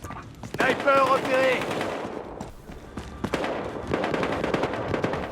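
Gunfire in the Battlefield Hardline multiplayer video game, with bursts of rapid automatic fire and scattered shots over a busy battle mix, loud throughout the clip.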